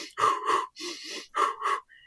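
A voice imitates rapid running breaths, two sharp puffs out then two in, repeated in a quick rhythm, close and clear with nothing else around.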